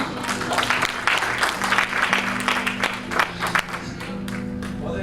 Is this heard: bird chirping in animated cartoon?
no